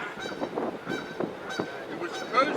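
Goose-like honking from a bird somewhere near the historic battleship New Jersey while it is being moved, several short nasal calls repeating through the moment, moderately loud with faint background noise.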